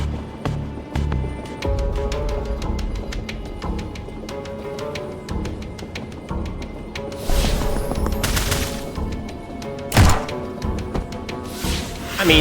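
Gunshots ring out in the Tactical Breach Wizards video game. Several sharp cracks come in a cluster near the end, louder than the busy rhythmic game sounds and music that run throughout.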